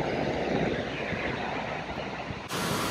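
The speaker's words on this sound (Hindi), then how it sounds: "और एक वाटरफॉल" Waterfall along a mountain roadside in Arunachal Pradesh near Tawang, a steady broadband rush of falling water with some wind noise, continuous and fairly faint.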